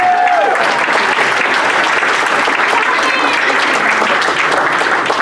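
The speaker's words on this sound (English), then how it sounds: "so give him a round of applause, because we're getting the money" Loud, dense applause from an audience at a student leadership academy ceremony for Vice President Nathaniel Cruz, steady throughout with a few cheers and voices mixed in.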